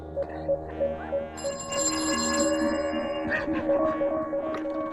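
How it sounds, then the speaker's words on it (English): A telephone rings with a steady electronic tone over low background noise, continuing at moderate loudness for several seconds with no one speaking. "Yes, the phone rang."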